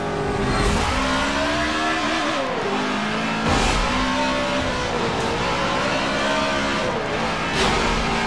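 A NASCAR race car in a racing video game, set at Austin, Texas, roars loudly up and down through its gears, engine pitch rising and falling repeatedly as it accelerates and shifts.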